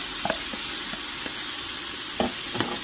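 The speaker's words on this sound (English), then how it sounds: "We're going to saute these until these become a little translucent." Diced onions, peppers and garlic sauté in a hot pan for birria tacos, giving a steady close hiss of sizzling with a few soft stirring clicks and scrapes scattered through it.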